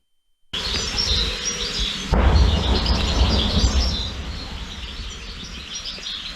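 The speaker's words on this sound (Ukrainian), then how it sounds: "птахи співають" Birds chirp and sing steadily outdoors in a village in Dnipropetrovsk region, Ukraine, mixed with a low rumbling of flying drones that swells partway through and then eases.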